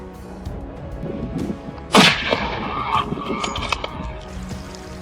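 A single loud gunshot from a hunter firing at a wild boar, a sharp broadband crack at about two seconds with a short decaying echo over an outdoor background.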